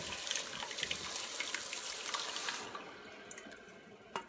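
Tomatoes poured into a hot pan for marinara sauce, a steady wet sizzling and splashing rush for about two and a half seconds, then fading to quieter bubbling with a few faint clicks.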